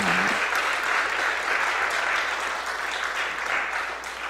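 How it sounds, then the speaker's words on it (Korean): A church congregation applauds in welcome for a pastor's mother standing at the back of the sanctuary, a dense, steady wash of many hands clapping throughout, with no voices over it. "한번 환영의 박수 주시기 바랍니다."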